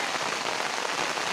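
Heavy rain falling over a rice paddy field during transplanting, a dense, steady wash of raindrops hitting water and ground.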